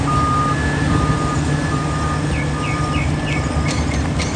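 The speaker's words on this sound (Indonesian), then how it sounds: "Wow, ini truk front loader." A front loader truck's reversing alarm beeps in a steady repeating pattern over a loud, constant engine rumble.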